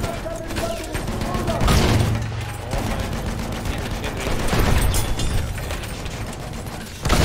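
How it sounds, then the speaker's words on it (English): Distant sniper gunfire in Battlefield 1, a few sharp shots buried in a dense, constant game mix of battle noise, with players talking over it throughout. "Sniper shooting in the back."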